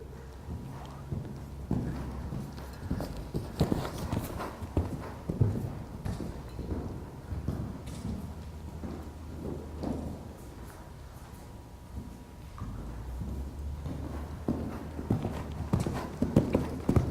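A horse cantering in a riding arena, with dull hoof beats thudding in a steady repeating rhythm throughout, at moderate distance with some background noise.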